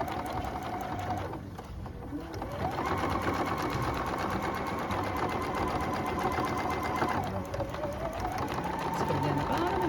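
A sewing machine stitches a back tack on a reversible bag, running in a rapid, even whir that pauses briefly and restarts twice, with a voice talking underneath.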